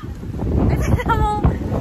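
Strong wind buffets the microphone on a boat crossing rough sea near Siquijor, with continuous rushing wind noise and the churn of waves close by; brief voices surface faintly in the background.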